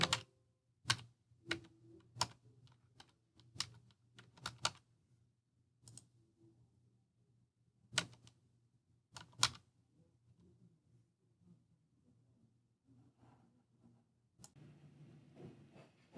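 Someone types credit card details on a computer keyboard, producing faint, sparse, irregular key clicks with pauses between bursts in a quiet room.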